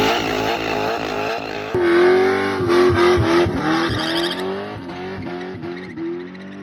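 A boosted small-block Chevy V8 in an S10 pickup drives along a highway, the engine note rising and dipping through throttle changes with a loud, continuous roar and some whine on top.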